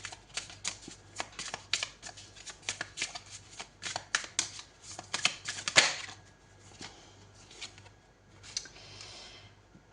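Tarot cards being shuffled close up, a rapid run of crisp riffling flicks and taps that continues for several seconds before trailing off into lighter, sparser card sounds.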